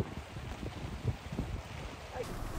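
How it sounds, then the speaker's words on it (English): Strong wind blows through a stormy Central Oregon campsite, a low, steady rumble with brief buffeting gusts against the microphone, fairly faint overall. "It's a really big gust and like kind of just a steady wind."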